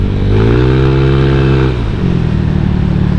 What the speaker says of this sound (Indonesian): Gila motor gue coy, ngacir coy.